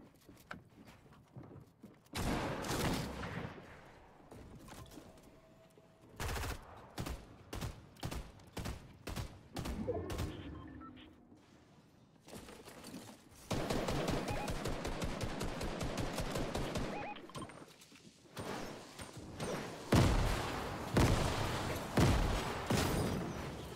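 Gunfire from a new weapon in the Fortnite video game, repeated bursts and rapid automatic volleys with short gaps, loud and continuous in places.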